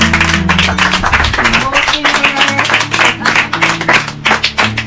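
Applause from a small gathering as a woman named Diane is honoured: uneven, moderately loud clapping with voices and a low music-like tone underneath.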